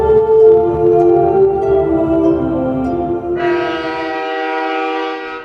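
A train rumbles close by with a long, loud horn blast that shifts to a higher, brighter tone partway through before the rumble fades under the sustained note.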